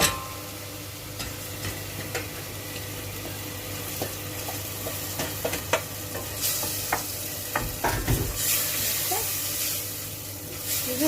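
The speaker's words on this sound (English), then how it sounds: "You're just gonna stir it up a little bit, get it nicely coated." Kidney beans get stirred into a sizzling tomato and oil sauce in a pan, with scraping spoon strokes and soft knocks over a constant frying hiss, close up and fairly loud.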